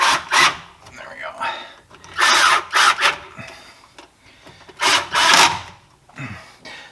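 Differential cover bolts on a 2005 Ford Explorer Sport Trac are snugged down in bursts, with short ratcheting, grinding spurts separated by quieter gaps, close and fairly loud; someone talks between them.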